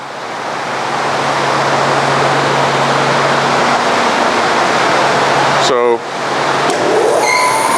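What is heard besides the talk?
dust collection system running in a woodworking shop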